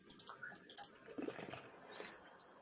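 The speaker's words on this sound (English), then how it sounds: "Just typing right now." A quick burst of typing on a computer keyboard, several rapid close clicks at the start followed by softer, scattered key taps, faint and alone with no talking.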